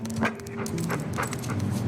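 A puppy in the video game Uncharted 4 whimpers and yips in short, repeated high cries over a steady low background hum, fairly close and moderately loud.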